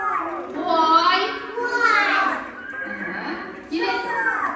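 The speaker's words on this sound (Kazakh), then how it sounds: "Жылқы." A horse neighs and whinnies at a summer mountain pasture, several loud drawn-out calls, the last one starting sharply near the end, with a voice mixed in.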